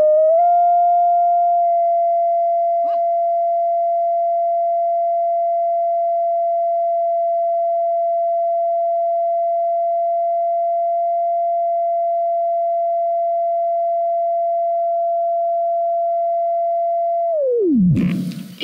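A steady, loud sine tone from a tone generator aimed at a drinking glass holds one pitch for about seventeen seconds, then drops away sharply at the end.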